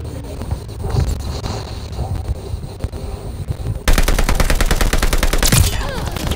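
Gunfire in the Call of Duty Vanguard video game: scattered shots and game noise at first, then a loud, dense burst of rapid automatic fire that rattles on continuously, close and heavy.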